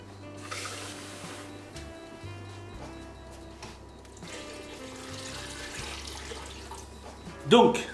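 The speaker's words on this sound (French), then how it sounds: "j'ai rajouté 2 pichets d'eau pour avoir une bonne quantité de bouillon" Two jugs of water pour into a pot of beef broth, a running, gurgling stream over background hum, ending in a brief louder splash.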